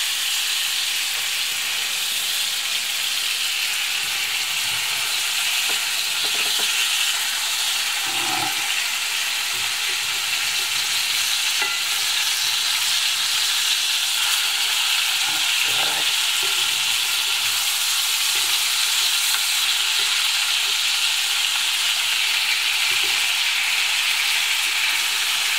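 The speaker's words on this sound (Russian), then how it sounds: "готовятся наши котлетки" Meat cutlets fry in a hot pan with a steady, loud sizzle and hiss lasting throughout, with occasional soft scraping and clinks as they are stirred or turned.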